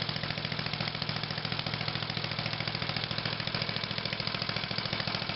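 A Tecumseh small engine on lawn equipment runs steadily at idle, a rapid, even chugging putter with a regular beat, close and fairly loud, alone without any talk.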